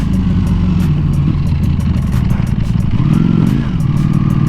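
A Ducati Panigale V4S superbike engine roars loudly and steadily nearby, a dense throaty drone with rising revs toward the end and sharp ticking clatter on top.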